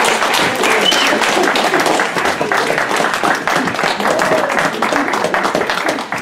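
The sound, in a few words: audience applause after talk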